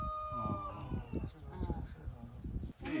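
Chickens in a farmyard cluck and call close by in short, scattered bursts while people talk over them.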